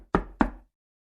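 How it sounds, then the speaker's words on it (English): Two firm knocks on a door, close and distinct, followed by silence. "Another knock."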